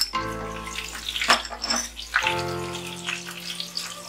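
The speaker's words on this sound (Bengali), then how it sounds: "ফোড়নটা 30 সেকেন্ডের মতো ভালোভাবে ভাজা করে নেব।" Whole spices (nigella seeds, a broken bay leaf and dried red chilli pieces) fry in hot oil in a pan, giving a steady crackling sizzle with a faint background hum and no talk.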